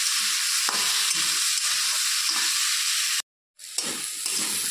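Potatoes and onions frying in a pan with a little salt and turmeric for a lafa greens dish, loud close sizzling and stirring that breaks off briefly near the middle and then resumes.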